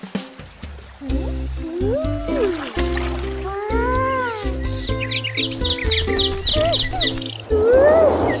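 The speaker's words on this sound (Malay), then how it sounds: "Cantik je burung." Birds chirp and tweet in a series of rising and falling calls in a natural outdoor setting beside a boat on water, mixed with background music and other cartoon sounds.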